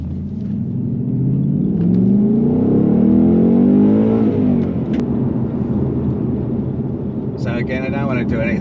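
Ford Mustang Mach 1 accelerating away from a stop: a loud, close engine roar that rises in pitch through the first gear, eases after a shift, then settles into a steady rumble heard from inside the car.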